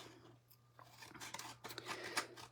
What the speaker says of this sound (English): So we're going to need a little pair of scissors.